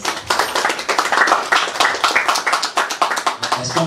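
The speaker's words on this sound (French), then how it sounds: "Est-ce qu'on peut applaudir très fort?" An audience at a conference on knowledge and African renaissance claps, a dense burst of many hands applauding loudly and evenly for several seconds.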